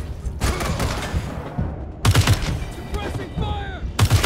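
Bursts of suppressing gunfire in the post-apocalyptic video game Wasteland 3, as Scar Collectors attack the Rangers HQ; loud rapid volleys come in clusters with thuds and mechanical clatter, mixed with shouting voices.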